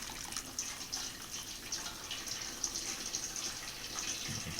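Walnut hull dye streams through cheesecloth into a container, a steady close splashing and trickling of liquid with faint drips, continuous throughout with no speech.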